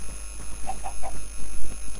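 Chickens in the Minecraft game, heard in a modded Mine&Blade Battlegear world, give three short clucks close together in the middle, over a steady background hum, with no talk.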